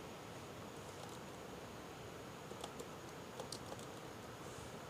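Typing on a computer keyboard during accounting data entry, faint and steady key clicks under a hiss of background noise, quiet and somewhat distant.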